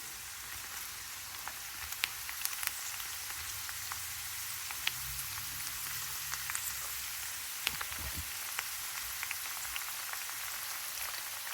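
Curry leaves sizzling in hot oil while tomato pickle is being made, a steady crackling hiss with scattered sharp pops throughout and no talking.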